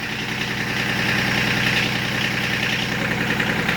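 A Kubota B8200E tractor's engine idles after a cold start, a steady, close, loud diesel chugging with a fast, even beat and some vibration, with no voices over it.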